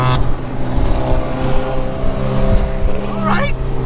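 A car with a 3.7 engine revs and accelerates nearby in a downtown street at night, giving a loud, harsh, rising engine drone with a brief tire chirp near the end.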